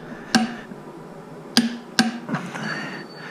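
A clicker-style torque wrench tightening lug nuts to 220 foot-pounds on a K16GTL, giving a few sharp metallic clicks, two close together, loud and near with no talking.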